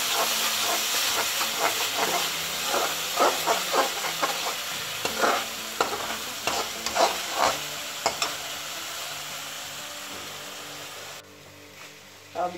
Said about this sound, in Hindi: ये पिसा हुआ धनिया को डाल दिया, अब इसको फ्राई करने देते हैं ना थोड़ी देर।